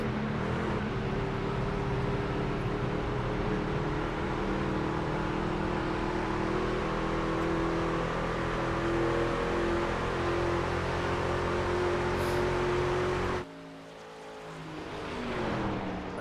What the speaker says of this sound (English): Truck doesn't sound like it's accelerating as well as it should be.